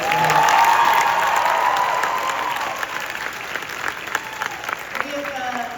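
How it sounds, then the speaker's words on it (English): A convention panel audience at Megacon 2025 breaks into loud applause with scattered cheers that tapers off after a few seconds, leaving lighter scattered claps. "You guys, round of applause for the wonderful art."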